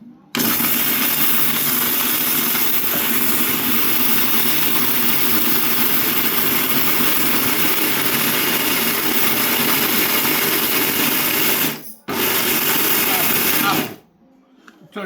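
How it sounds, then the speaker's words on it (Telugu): A kitchen mixer grinder runs steadily for about twelve seconds, grinding chana dal, urad dal and cumin seeds into a coarse powder, a loud continuous whir that breaks off briefly before stopping. "మిక్సీలో తిప్పుతున్నాడు చూడండి."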